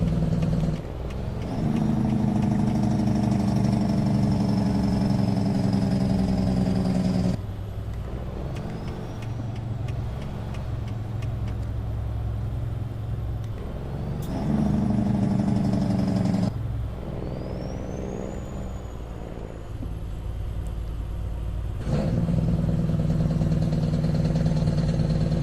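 A simulated truck engine in American Truck Simulator, a 13-speed rig, drones steadily throughout with a low idling hum, the pitch dropping and rising with several gear changes and no talk over it.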